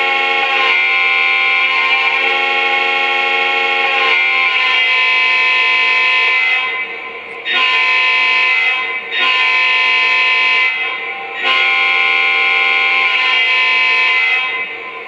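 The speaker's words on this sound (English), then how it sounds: "has a quillable air horn." Air horn of a Lionel Southern Pacific EMD GP30 model train locomotive with Legacy control, sounding a loud, steady multi-tone chord that is held continuously, then broken into three separate quilled blasts, with no voices.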